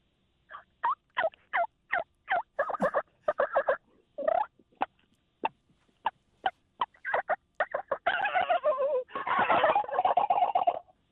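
A voice imitating wild turkey gobbles and yelps, a series of short sharp calls at first, then building into longer rattling gobbles near the end, close and clear with no other sound.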